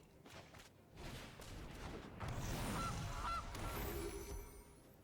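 Goose honking in the Magic: The Gathering Arena video game, two short nasal honks in the middle over a backdrop of soft game thuds and whooshes, with a brief chime near the end.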